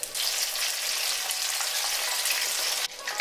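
Lumpiang shanghai spring rolls deep-frying in hot oil, a steady dense sizzle and crackle running loud and close throughout, with a brief dip near the end before the bubbling resumes.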